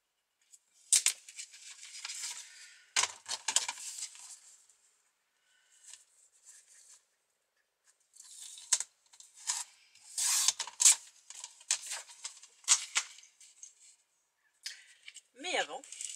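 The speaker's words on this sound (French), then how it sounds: "Donc je vais couper mon papier" Scissors snipping paper for a scrapbook album page, a series of short crisp cutting and rustling bursts separated by pauses, close and fairly quiet, with no talking over them.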